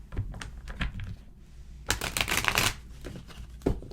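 Tarot cards are shuffled close up in quick riffling bursts of crisp slapping and flicking, with one longer rapid riffle partway through and short pauses between.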